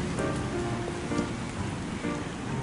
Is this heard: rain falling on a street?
yes